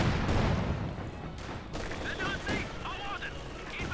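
Company of Heroes 2 battle gunfire with a Pak 40 anti-tank gun firing at infantry: a heavy boom opens the clip, followed by scattered shots and combat noise while a commentator talks over it.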